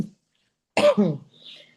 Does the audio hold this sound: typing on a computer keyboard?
no